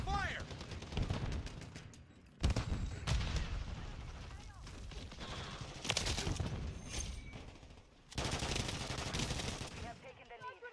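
Rapid automatic gunfire in a Modern Warfare III multiplayer match on the Shipment map, loud bursts broken by short pauses, with someone talking over parts of it.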